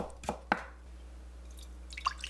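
A knife slicing carrot very thinly on a cutting board, with a few separate soft taps spaced apart against a quiet background.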